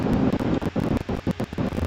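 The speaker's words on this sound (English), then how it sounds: "it is windy as all hell" Strong wind gusting against a microphone during severe thunderstorm weather near Wheeler County, with a loud, broadband rush that surges and dips in uneven bursts throughout.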